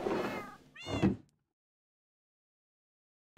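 Two meows from a cat in the video game Minecraft, close and clear, one right after the other, followed by silence.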